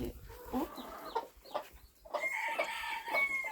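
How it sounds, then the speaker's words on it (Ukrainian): A broody bantam hen clucks in short, repeated bursts nearby, with faint farmyard background noise. "А ця вже в них квокає навіть"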